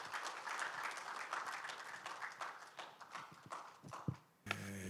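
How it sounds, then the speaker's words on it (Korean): An audience at a founding ceremony gives warm applause to welcome a pastor to the stage, a fairly faint, uneven patter of clapping that dies away before a brief pause. "여러분 따뜻한 박수로 맞아주시면 감사하겠습니다"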